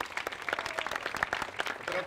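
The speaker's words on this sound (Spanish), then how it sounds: "Y de nuevo le damos otro aplauso a la Virgen" A congregation claps after a Mass honoring the Virgin of Altagracia in Santo Domingo, soft scattered applause that stays low and steady throughout.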